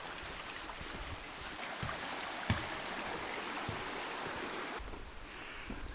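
A river rushes beside a forest hiking track on the Overland Track, a steady broad wash of flowing water at moderate distance, continuous and unbroken.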